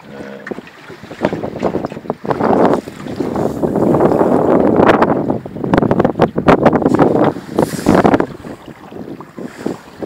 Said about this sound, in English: we're sailing across Sandy Bay. Pretty gentle conditions.